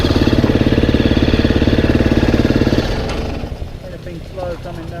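A motorbike engine pulses rapidly and loudly while riding off-road in Spain. Partway through the chug drops away as the gear changes, leaving a quieter rumble and some faint voices.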